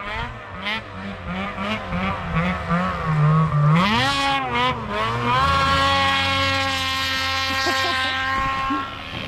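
A snowmobile engine in deep powder on the Alaska Range buzzes and revs, its pitch rising and climbing as it approaches, then holds a loud, steady high whine close by.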